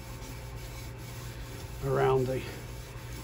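A rag rubs briskly over a brass lamp being polished near the top where the burner screws in, a short close swishing burst in the middle under quiet room tone, with someone talking softly.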